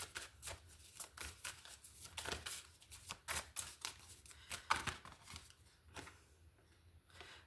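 Tarot cards shuffled in a riffling series of crisp, papery bursts, fairly close and steady, with a brief sharper flick partway through and quieter handling toward the end; no one speaks.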